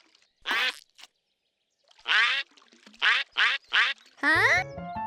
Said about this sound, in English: Okay, it wasn't duck mud. There were real ducks.